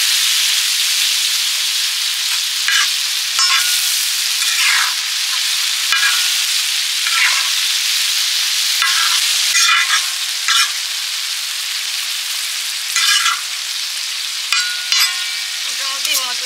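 Fish frying in a pan with spices, being stirred: a loud continuous sizzle and hiss broken by repeated bursts of scraping and stirring, close and alone with no talk.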